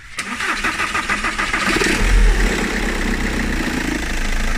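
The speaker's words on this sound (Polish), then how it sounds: "Napinacz cały lata. Słychać." A Volkswagen Golf Mk5 engine idles close by, with a steady rattling, ticking clatter from the belt tensioner and worn alternator pulley bearing over the low hum.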